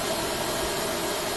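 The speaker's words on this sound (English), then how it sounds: "Starting engine 2." An Airbus A321 jet engine spools up in Flight Simulator X, giving a steady, loud, broad roar and hiss with no pauses across the short stretch.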